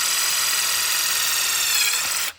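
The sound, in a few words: step drill drilling a pilot hole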